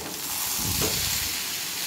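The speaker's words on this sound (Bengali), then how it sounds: "পেঁপেটা ভাজতে দিয়ে দিচ্ছি, ঢাকা দিয়ে দেব।" Pieces of papaya fry in a pan with a steady, dense sizzle and a brief stirring scrape in the middle, close and continuous with no talking.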